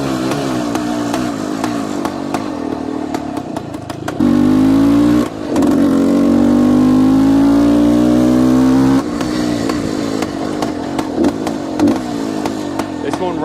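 A 1971 Yamaha RT1-B 360 big bore two-stroke motorcycle idling with a buzzy, popping note, then rising in a strong sustained rev for several seconds before dropping back, close and loud with speech partly over it.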